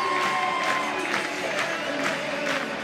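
A Swedish crowd at a show jumping Nations Cup event in Falsterbo cheering and applauding loudly, a continuous roar of claps and whoops with a commentator's voice faintly underneath.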